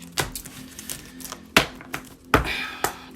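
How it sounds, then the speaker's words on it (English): Oracle cards are shuffled in a few sharp riffling bursts with quiet pauses between them, close and crisp. "I'm going to shuffle it real quick because I put the cards back in"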